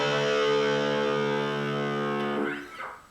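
Sixth string of a distorted electric guitar tuned down to drop D, struck once and left to ring as a single loud, sustained low note that slowly decays before being cut off.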